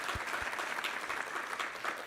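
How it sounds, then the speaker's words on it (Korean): A church congregation at a Korean Sunday worship service claps together in praise, a brief dense patter of many hands at moderate distance, steady throughout. "우리 하나님께 감사와 영광의 박수 올려드리겠습니다."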